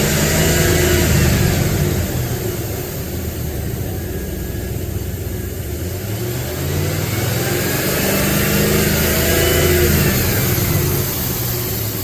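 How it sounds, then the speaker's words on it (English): A car engine revs up as its RPM is raised during ignition testing, a loud, close mechanical roar that climbs and falls in pitch over a steady engine hum, with no voices. "I'm going to just increase the engine RPM to see if the dwell time or if the spark advance changes at all"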